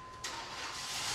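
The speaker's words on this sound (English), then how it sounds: "It's the starter keeps engaging whilst the engine is running." A car's starter motor engages while the engine is already running, a sudden harsh whirring grind that cuts in over the steady engine hum and continues loudly.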